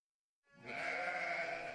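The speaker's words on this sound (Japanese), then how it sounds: "この牧場の羊は地元産のわかめや海苔などを餌にしているため、羊特有の臭みがないのが特徴です。" A sheep on a Minamisanriku, Miyagi farm, fed on local wakame and nori seaweed, gives one long sustained bleat, close and clear, with no talk around it.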